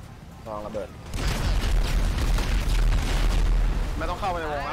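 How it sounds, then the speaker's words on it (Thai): A loud, rumbling explosion in the video game GTA V bursts out and keeps roaring for several seconds while players talk over it. "ลองระเบิด"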